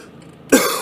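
A single short, sharp cough from someone who is stuffy and bringing up phlegm, close and sudden after quiet car-interior background.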